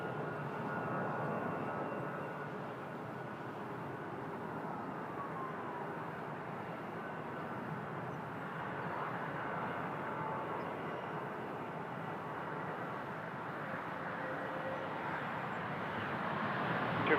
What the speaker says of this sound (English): That's a United 737 MAX 8 from San Francisco.